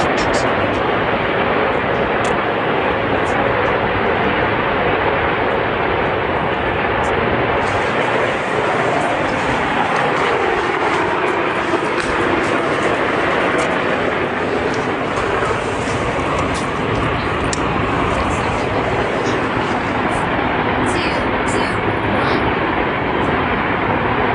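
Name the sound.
fighter jet flying overhead, unseen above overcast clouds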